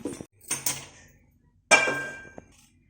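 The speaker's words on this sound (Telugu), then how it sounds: "ఇది నేను ఇప్పుడు స్టవ్ పైన పెట్టేస్తాను." A metal pan holding mustard oil is set onto a home stove while making a mango pickle: a couple of sharp metallic clanks and scrapes with short ringing, close and fairly loud, separated by quiet.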